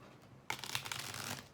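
Tarot cards being shuffled, a soft flurry of papery riffling that starts abruptly after a quiet half second and continues steadily to the end, close and fairly quiet.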